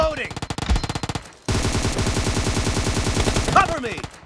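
Rapid automatic gunfire in a team deathmatch shooter video game, dense bursts of close, loud shots that pause briefly then resume as a long sustained stream, with faint voice callouts in between.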